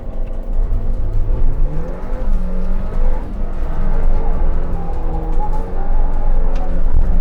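Suzuki Jimny 4x4 straining to climb a steep wall off-road, its engine revving hard and loud for several seconds with rising and falling pitch as the tires spin and scrabble for grip.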